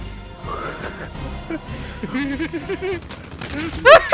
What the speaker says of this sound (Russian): Они изнутри, что ли, там стреляют, да?